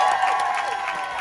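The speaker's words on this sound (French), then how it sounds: "Applaudissez-vous, applaudissez-vous, applaudissez-vous." A packed audience claps and cheers together, a loud, close burst of mixed applause with whoops and raised voices layered over it, lasting only a moment.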